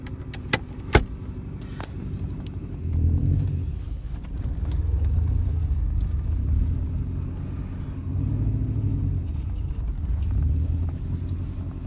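A 1995 Subaru Impreza wagon rumbles along at low speed in a steady drone after a couple of sharp metallic clicks at the start, with the engine note swelling and easing as it drives.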